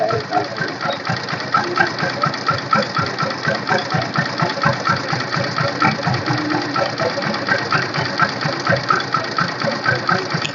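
A 2013 Honda CB Twister motorcycle engine idles steadily and close up, with a fast, even put-put pulse and a faint mechanical ticking that holds without a break.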